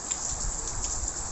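Rain falls steadily outdoors in Malaysia as a dense, even hiss with soft low patters, close and fairly loud, and no voices are heard.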